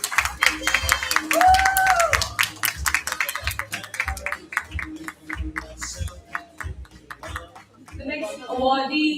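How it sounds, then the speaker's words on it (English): An audience at a corporate townhall awards ceremony claps for an award winner, with steady, fairly close applause that thins toward the end as it settles. "please join me in applauding his achievement."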